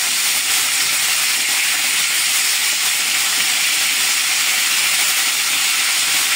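Marinated potatoes fry in oil for a kacchi biryani, producing a loud, unbroken hiss that stays even throughout with no talking.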